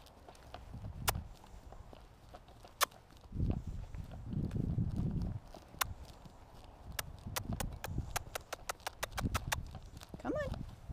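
A pony's hooves clip-clop on the ground in an uneven, plodding rhythm, fairly close, with a person talking intermittently and a brief whinny-like sound near the end.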